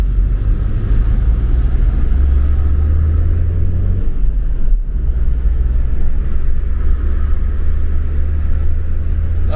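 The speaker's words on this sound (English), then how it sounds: "There's a lot of traffic there." Heavy road traffic with lorries and buses, a loud continuous low rumble of engines passing close by, with a brief dip midway and no talking.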